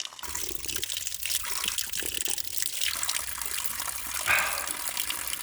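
Water running from a roadside spring high in the hills, a continuous close splashing trickle with a brief louder gush near the end.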